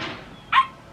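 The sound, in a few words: dog barking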